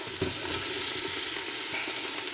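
Mushrooms frying with caramelizing onions in a pan give a steady, soft sizzle with a few light stirring scrapes, no voices.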